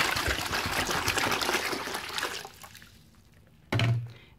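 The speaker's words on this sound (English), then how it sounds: "I'm going to take this water. I'm going to pour it into this garbage pail." Water poured from a jug into a garbage pail, heard as a steady close splashing gush that tapers off and then ends with a brief final slosh.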